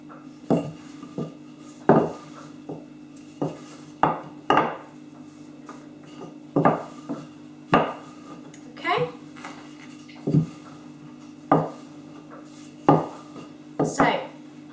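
Rolling out flatbread dough by hand for a food preparation lesson, with repeated close knocks and clatters spaced every second or so, soft rubbing between them and a faint steady hum underneath.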